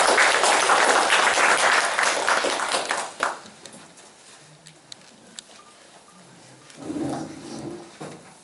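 An audience at a history lecture in a memorial hall gives a lecturer a burst of applause that fades out after about three seconds, followed by quiet room tone with a few scattered knocks and a short murmur of voices.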